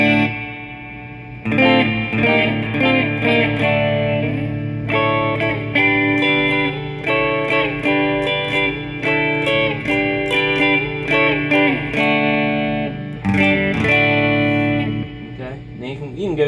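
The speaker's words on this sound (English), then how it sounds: "Okay, now I'm going to add some reverb in. I'm just going to turn the reverb up to about 4" An electric guitar plays distorted chords and single notes through a Fender Hot Rod Deluxe III tube combo amp with its spring reverb set around 4, the notes ringing out with a moderate wash behind them.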